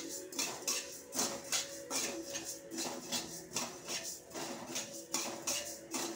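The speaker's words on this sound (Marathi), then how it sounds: "हे बघा, हे आता भाजत आलेत, चांगले असे परतवून घ्यायचे" Coriander seeds roasting in a dry pan for Malvani masala, stirred with a utensil in a steady rhythm of scraping strokes and rattling seeds against metal, close and moderately loud, with no talking.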